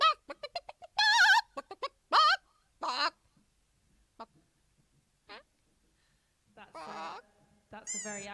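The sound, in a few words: person imitating a chicken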